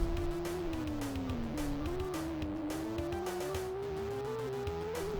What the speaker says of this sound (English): Something about those car noises, too, made me crack up.